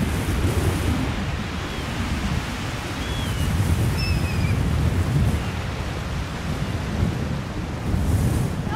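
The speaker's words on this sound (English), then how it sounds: "It's too windy!" Strong wind roars steadily with gusty surges, buffeting the microphone; a few faint chirps poke through briefly.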